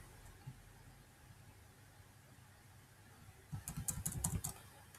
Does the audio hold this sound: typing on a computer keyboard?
yes